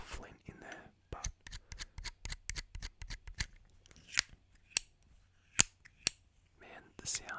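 Sharp metallic clicks in quick succession as a Zippo lighter's lid snaps and wheel flicks, followed by a few sparser louder clacks, close up with faint whispery breaths.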